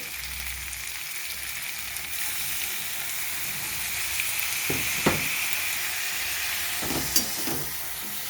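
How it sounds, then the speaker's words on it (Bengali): Ginger and cumin paste sautéing in a pan, with a steady hissing sizzle throughout and a few sharp spatula scrapes and taps in the second half, no voices. "এইভাবে দু চার মিনিট কষিয়ে নেব"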